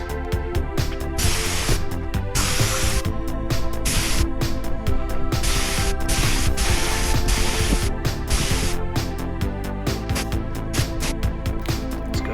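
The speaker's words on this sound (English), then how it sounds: "For the first time I feel confident in spray painting." Enamel spray paint hisses onto metal VW suspension parts for an EV test rig in close, steady bursts separated by short pauses, with no talking.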